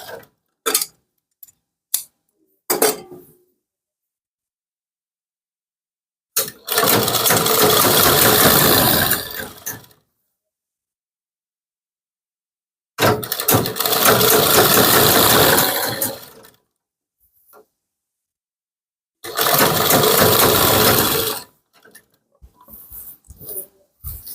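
A sewing machine stitches a kurti in three separate runs of steady, fast mechanical whirring lasting a few seconds each. Quiet pauses and small clicks of handling fall between the runs.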